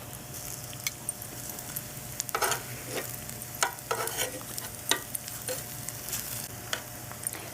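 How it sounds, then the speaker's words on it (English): Mushrooms browning in a hot pan sizzle steadily, with a spatula stirring and scraping through them in bursts of clinks and crackles; a low background hum runs underneath. "fried mushrooms taste really good on this dish"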